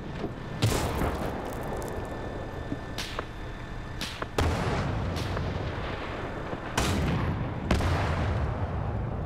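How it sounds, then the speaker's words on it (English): Artillery guns firing in a World War II battle video game, several loud booming shots at irregular intervals over a continuous rumbling battlefield background, with no voices. "We just hit that position with artillery"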